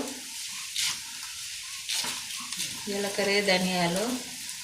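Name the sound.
cumin and coriander seeds frying in hot oil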